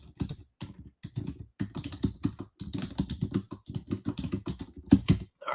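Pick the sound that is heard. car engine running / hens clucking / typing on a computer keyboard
typing on a computer keyboard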